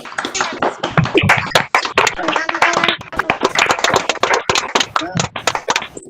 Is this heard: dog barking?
no